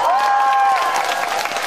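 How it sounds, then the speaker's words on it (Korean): Brief burst of audience applause and cheering at a singer's celebratory stage performance, a short crowd clap lasting under two seconds beneath a lingering sustained tone. "박수 한번 주세요."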